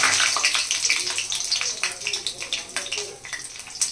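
Cumin, mustard seeds and rai hitting hot oil for chana bhaji dal: a loud, close crackling sizzle with dense popping that gradually eases over a few seconds.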